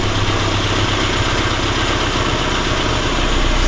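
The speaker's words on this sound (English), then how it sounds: "the rev's picked up, the engine had a bit of a wobble" Classic Mini Sprite with a 1275cc engine idling steadily up close, a loud continuous low rumble with a slightly uneven, wobbling beat and no one talking.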